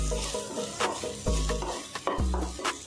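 Okra stir-fries in a pan with chilli and turmeric powder, giving a steady close sizzle broken by several louder scraping stirs of the spatula against the pan.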